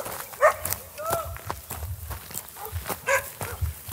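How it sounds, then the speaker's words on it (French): Dogs bark at a farm in the Cévennes countryside near a flock, giving several sharp, scattered barks at middle distance along with footsteps and background voices. "on a encore plus de chiens là"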